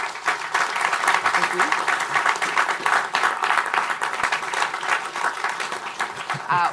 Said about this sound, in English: I want to give the Commissioner a round of applause for participating today.